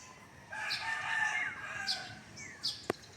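Several bird calls, including a drawn-out crowing-like cry and a few short chirps, over quiet outdoor background, ending with a sharp click.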